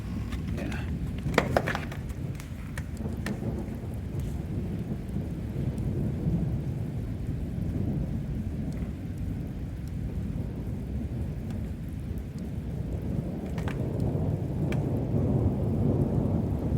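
Steady heavy monsoon rain roars throughout, with low rumbling thunder rolling underneath and a few sharp crackles early on.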